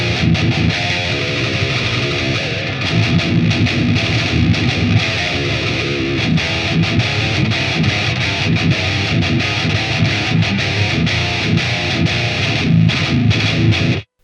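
Heavily processed, distorted electric guitar sent through an Xvive A58 wireless system into effects, playing continuously and loud with dense chords and riffs before cutting off abruptly at the end.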